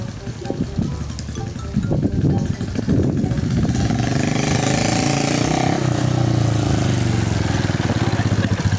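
Honda Dream motorcycle pulling away from a standstill, engine rattling and revving hard, then climbing into a loud sustained drone, with people talking over the start.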